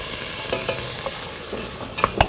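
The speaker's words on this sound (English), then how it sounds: "I'm going to start sauteing some vegetables" Carrots, celery and onion sauteing in a hot pot, with a soft steady sizzle and a few sharper clinks and scrapes of stirring toward the end.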